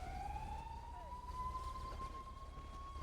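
Emergency vehicle siren in a video game set near Mount Chiliad, a single continuous wail slowly rising in pitch, steady and moderately quiet throughout.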